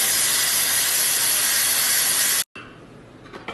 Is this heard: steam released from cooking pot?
yes